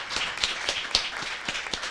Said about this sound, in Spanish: Por favor, un aplauso por ahí.